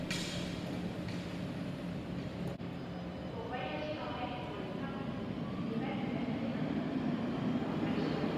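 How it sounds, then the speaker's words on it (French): A Nice tramway rolls through an underground tunnel at over 70 km/h, a steady loud rumble and hiss of wheels on rail with rising whines and metallic squeals, continuous throughout. "la rame passe en mode lac en souterrain pour avoir la meilleure performance en roulant à plus de 70 km/h dans le tunnel"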